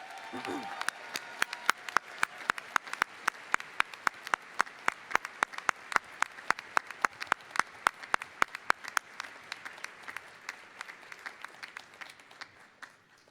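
Applause for a winter 2019 Chancellor's Award recipient at a university commencement ceremony, starting as a few sharp claps and building into steady, fairly sparse clapping from a medium-sized crowd that gradually thins toward the end.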